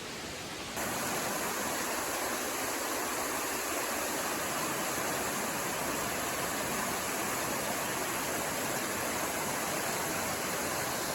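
Steady, full roar of a waterfall on the Appalachian Trail fills the whole clip, a dense continuous hiss close by, with no voices.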